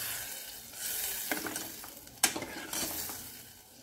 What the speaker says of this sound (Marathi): याला मिक्स करून घेऊ